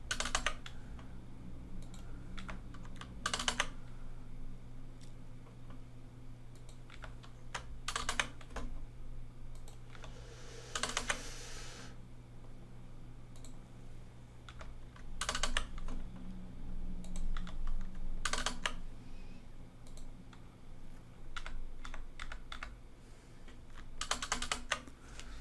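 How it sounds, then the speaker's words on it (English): Someone types on a computer keyboard, producing faint, close clicks and key taps in scattered clusters over a low background hum, with a few louder keystrokes standing out and no voices. "So click on Shift and double enter"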